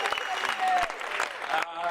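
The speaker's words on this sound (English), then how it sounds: "Give him a round of applause!" Audience applause at a business testimonial seminar, steady crowd clapping throughout with a voice speaking over it.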